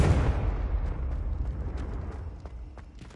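A Confringo blasting spell explodes in Hogwarts Legacy, one loud deep boom that opens the clip and rumbles away over about three seconds, with small pops in the tail.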